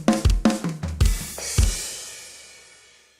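Drum fill of several sharp tom and snare hits in quick succession, ending on a crash-like cymbal hit with a kick that is choked off, the ring decaying quickly to near silence.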